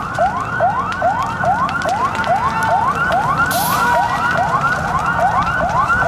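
An ambulance siren sounds at a fire disaster mock drill, a loud, steady wail repeating in quick rising sweeps for the whole stretch, with no talking.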